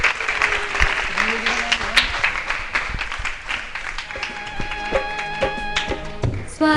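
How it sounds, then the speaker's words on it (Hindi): Applause at a gathering welcoming a chairperson: a continuous patter of clapping from a group, with voices calling and singing over it and a louder burst toward the end. "तालियां तालियां"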